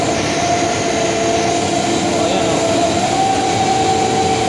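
A small drone hums steadily and loudly at close range, with a sustained whine and constant rotor noise throughout, and a brief word spoken over it.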